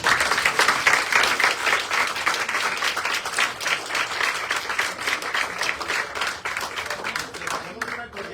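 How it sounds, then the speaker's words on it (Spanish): Sustained audience applause at an academic lecture in Mexicali, many hands clapping steadily and fairly loud throughout, thinning slightly near the end. "pues creo que se merece otro aplauso."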